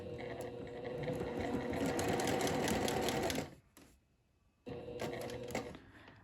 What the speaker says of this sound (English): So I'm going to sew a top stitch line around this rectangle